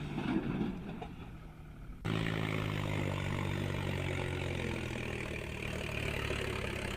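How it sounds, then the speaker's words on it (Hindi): A tractor pulling a trolley backs up in reverse gear toward a river in Shivpuri. After a quiet, muffled opening, its engine noise cuts in abruptly as a steady, moderate mechanical hum and holds evenly to the end. "किस तरह से ट्रैक्टर ट्रॉली बैक गियर में गई, उसके बाद अचानक से देखते ही देखते नदी में जा गिरी।"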